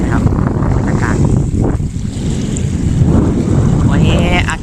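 Strong wind gusts across the open water of a reservoir at Huai Buak Luang during a fishing trip, a steady broadband roar with microphone buffeting and faint lapping water throughout.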